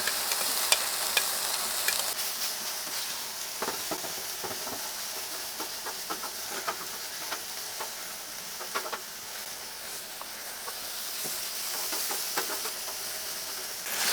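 Onions fry on a cooktop in a steady, close sizzle, with scattered small crackles and pops and faint stirring throughout; no one speaks.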